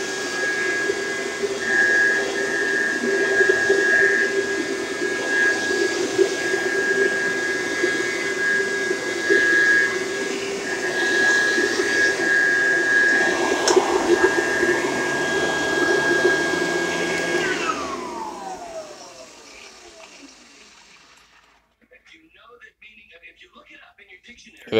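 A loud vacuum cleaner whines steadily with a high-pitched tone, then powers down, its pitch sliding away into near silence.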